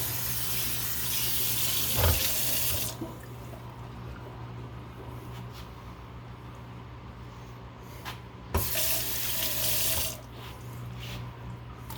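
Water runs steadily from a tap in a workshop, a continuous hiss that swells loudly at the start and again near the end, with a couple of brief knocks and no talking.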